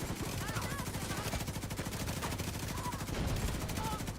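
Rapid automatic gunfire in the shooter game The Division 2 rattles in a continuous, evenly spaced burst for several seconds, loud and close, with faint game sounds underneath.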